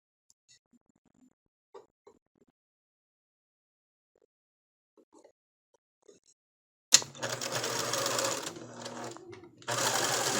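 Sewing machine hemming the lace-trimmed edge of a flower girl dress: after a quiet stretch of faint handling clicks, the machine starts up loud and close, running steadily with a brief stop.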